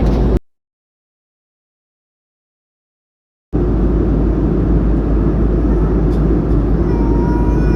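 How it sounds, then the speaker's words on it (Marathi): An airplane passes overhead near an airport route with a steady, broad roar that drops out to silence for about three seconds, then returns at full strength and holds to the end. "विमान आहे तो."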